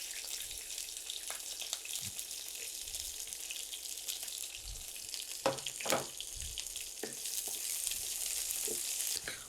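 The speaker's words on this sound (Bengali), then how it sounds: "এখানে আমি রসুন দিয়ে দিব।" Two small local garlic cloves fry in a pan for a vegetable bhaji, giving a steady close sizzle broken by several sharp knocks and scrapes of stirring, with no talk.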